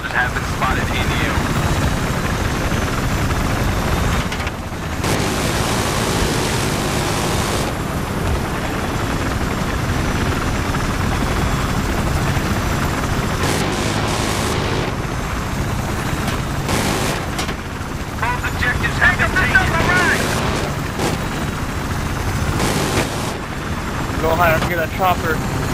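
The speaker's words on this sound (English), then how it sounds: "Chopper behind us on our right." A helicopter in Battlefield 3 drones steadily through a noisy multiplayer battle, mixed with gunfire, engine noise and players talking over voice chat.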